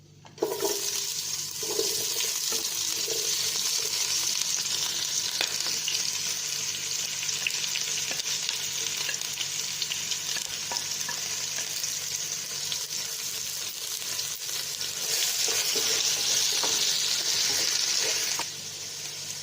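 Four chopped onions dropped into a hot pan for prawn biryani give off a loud, steady sizzle and hiss that carries on unbroken for about eighteen seconds, with no voices.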